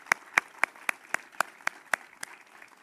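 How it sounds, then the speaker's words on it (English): A short, sparse round of applause at a Veterans Day ceremony in Moreno Valley: about nine crisp, evenly spaced claps, fairly faint and with no talk over them. "Let's give him one more round of applause"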